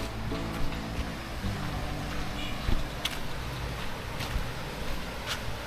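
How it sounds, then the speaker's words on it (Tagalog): Strong, clear river water flows steadily in a rural Philippine province, a constant broad rushing wash with a few faint sharper splashes, close and continuous throughout. "Ganda ng ilog, linaw. Malakas ang tubig."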